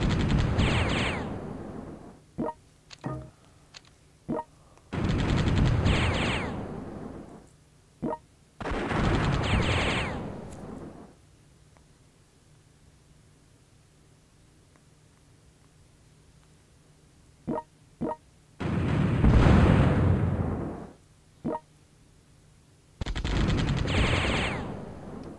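Artillery barrages and explosions from the strategy game World Conqueror 4, set during the Siege of Leningrad, come in loud, separate bursts. Each burst lasts a few seconds and is broken up by sharp individual cracks, with quieter gaps of low rumble between them.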